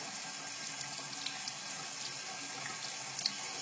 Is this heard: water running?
yes